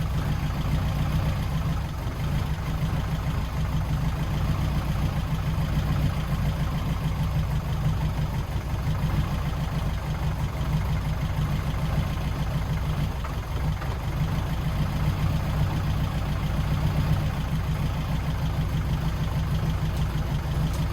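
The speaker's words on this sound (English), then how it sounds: "Sitting there idling right now." A 1971 MG Midget engine, just fitted with electronic ignition and with its timing slightly off, idles steadily and close by for the whole stretch, a continuous low rumble with no speech.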